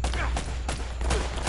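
Gunfire in the video game Uncharted: rapid bursts of shots crackle in a dense, continuous fusillade over a low rumble, with a voice faintly mixed in.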